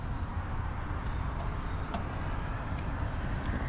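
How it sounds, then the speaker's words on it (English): The engine of a 1979 Toyota FJ55 with a tuned carburetor and new exhaust manifold gasket runs steadily at idle after a cold start, a broad even rumble heard close up with faint ticks. "The car cold starts nicely."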